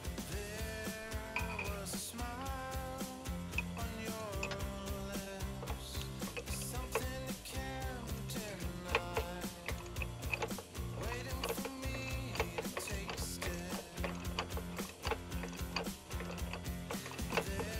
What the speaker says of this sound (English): use an 18mm box end wrench on one side to hold it and use the socket on the other side to loosen it